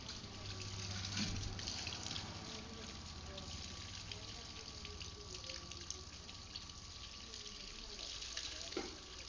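Running tap water splashing steadily while something is washed outdoors, a continuous close water sound with faint voices in the background.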